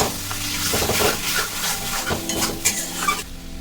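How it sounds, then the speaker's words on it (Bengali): Yogurt-marinated chicken stir-fried in masala in a kadai for biryani, a dense close sizzle under busy scraping and clanking of a spoon against the pan, with no voices. "দই মাখিয়ে যে চিকেনটা রেখেছিলাম ওটা দিয়ে ভালো করে কষিয়ে নেব।"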